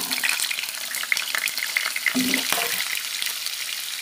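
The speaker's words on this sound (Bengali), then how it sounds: "আলুগুলোকে ভালো করে ভেজে নেব।" Small new potatoes fry in hot mustard oil in a wok, a close, busy sizzle with occasional stirring scrapes and clinks.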